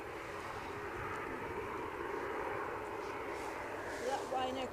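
A Ryanair airliner out of Dublin moves at Edinburgh Airport, its steady broadband engine roar held at a moderate distance throughout, with a person talking faintly over it.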